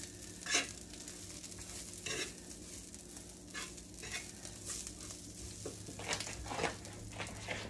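Kale sizzles and fries in a pan, with frequent scraping stir strokes and soft clatter. The sound is close but fairly quiet, and no one speaks.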